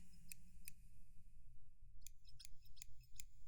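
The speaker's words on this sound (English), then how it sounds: "But these scissors sound nice" Several crisp, light snips from small scissors, a pair early on and then a quicker cluster of cuts, close up over a low steady hum.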